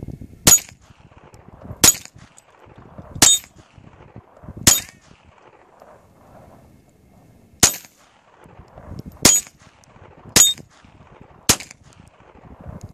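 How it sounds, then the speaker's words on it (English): A Ruger standard .22 long rifle fires eight single shots at steel targets, each a sharp crack with a metallic ping, spaced one to three seconds apart, fairly loud and close, with quiet outdoor background between. "I'm using my Ruger standard 22 long rifle. Let's see if we could hit the target."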